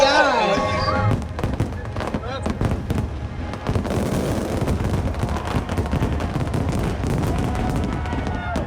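A Fourth of July fireworks show at Magic Kingdom: a dense run of loud crackling bursts and booming pops, continuous and fairly near, with voices of onlookers mixed underneath.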